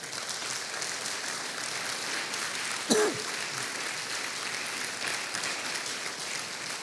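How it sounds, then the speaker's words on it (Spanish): A church congregation claps steadily and continuously, a dense, even wash of applause that holds at the same level throughout. "Den un aplauso al Señor en esta hora."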